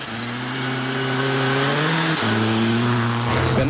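A rally car races over a snowy stage, its engine roaring loudly and steadily close by, dropping briefly as the handbrake swings it sideways, then revving hard again as the throttle reopens.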